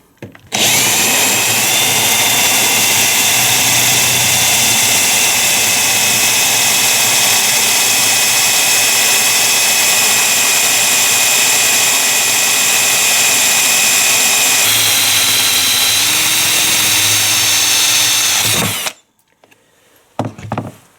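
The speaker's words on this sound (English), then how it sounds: "So let's drill a hole using this specialty bit." A power drill with a specialty bit bores a hole in wet slate, a loud continuous high-pitched whine that shifts pitch partway through and then stops abruptly.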